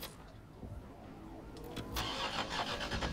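A car engine in the Resident Evil 3: Nemesis video game cranks and struggles, then catches and rises into a louder rumbling rev near the end, heard without talk.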